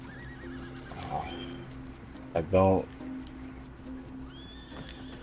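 Horse whinny in the Red Dead Online video game, a single loud neigh midway with soft hoof clip-clop and bird coos in the background, while a person briefly talks.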